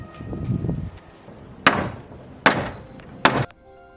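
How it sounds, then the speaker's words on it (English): Three loud, separate hammer blows drive nails into a wooden window framing board during a pool house renovation, spaced under a second apart after a quieter stretch of low handling noise. "So I'm going to go ahead and nail that side in."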